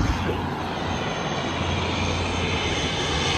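Airplane landing overhead at sunset, a loud, steady broadband engine roar holding close and constant throughout with no talking.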